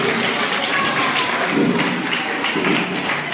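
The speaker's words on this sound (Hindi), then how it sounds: "तालियों से स्वागत करेंगे" An audience at a community gathering applauding to welcome a guest, a continuous crowd clapping with scattered louder claps and thuds, steady and fairly loud throughout.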